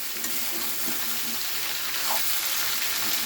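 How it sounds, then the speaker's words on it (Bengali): Cauliflower being stirred into onion frying in hot oil, a steady close sizzle with faint scraping of the spoon throughout. "ফুলকপিটা দিয়ে দিলাম, দিয়ে এবার নাড়িয়ে দিচ্ছি।"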